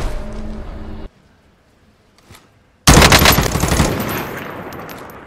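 The OTS gun in Call of Duty Warzone fires in a loud, dense rapid burst after a short pause, with the sustained automatic crackle continuing to the end and a brief earlier stretch of other gunfire.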